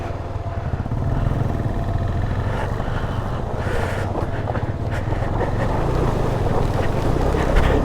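A motorbike crosses a pebble-bed water crossing on the mountain road from Sissu toward Ladakh, its engine a steady loud rumble mixed with splashing and wind noise throughout, with no one speaking.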